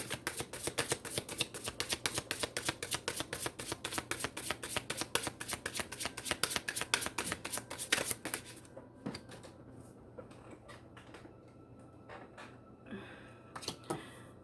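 Tarot cards being shuffled in a quick, steady run of crisp riffling clicks for about nine seconds, then trailing off into a few scattered soft taps and card slides.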